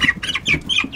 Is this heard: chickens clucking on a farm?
yes